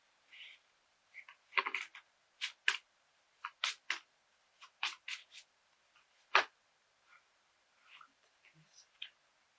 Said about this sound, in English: I'm still getting used to shuffling cards.